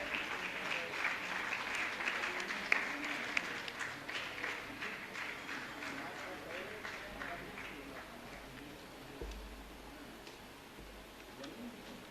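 Audience applause at the inaugural ceremony of Sant Hirdaram Medical College of Naturopathy & Yogic Science: a dense patter of many hands, strongest at first and thinning gradually, with voices in the background.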